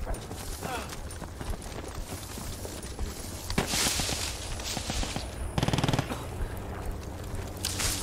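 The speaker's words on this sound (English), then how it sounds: "Oh, there is definitely firefight going on." Firefight gunfire in the Post Scriptum video game: steady machine-gun bursts and scattered rifle shots, some near and sharp, others distant, rattling continuously under low voices throughout.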